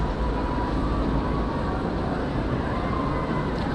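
A roller coaster train arrives at Parc Asterix with a continuous, loud rumble of wheels on track that holds steady throughout, with no talk.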